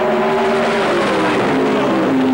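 Race cars, among them a Ford Granada, build their revs at the start line of a drag strip and pull away together. The engine drones are loud and steady, with rising tones as they accelerate off.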